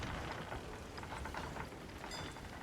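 Steady rain falls in the pirate video game Sea of Thieves, a dense continuous hiss of drops with no talking.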